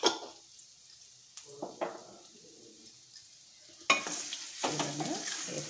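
Beetroot pachadi ingredients fry and get stirred in a pan, giving soft sizzling with scraping stirs in irregular bursts, louder near the end, and faint bird cooing in the background.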